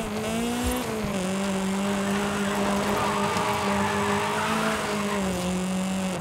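A Toyota AE86 drifts in Forza Horizon 5 with sustained loud tire squeal over a high, steadily droning engine, close and continuous with no talking.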